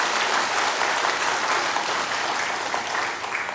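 A church congregation gives loud, dense, sustained applause after a hymn at a Sunday service, the clapping filling the room evenly with no talk over it.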